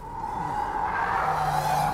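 Car sliding its rear on a race track during a Honda Integra Type-R versus Porsche Boxster Spyder lap-timing test, a sustained tire squeal over engine noise, steady and fairly close.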